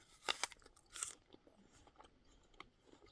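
Close, crisp crunches of someone biting into a red Gala Galaval apple, juicy and firm-fleshed, with two sharp bites followed by softer chewing.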